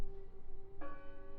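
A church bell tolls in the game Draugen, one clear ringing tone sustaining and then a second strike layering bright overtones, faint and alone.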